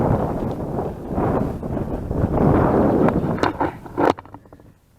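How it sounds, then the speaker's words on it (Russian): Wind gusting over a river in June fishing conditions, a steady broad rushing roar that rises and falls as it buffets the microphone, with a few brief knocks near the end before it drops off abruptly. "Ветер начал дуть сильнее и сильнее, как бы на воде волны, рябь."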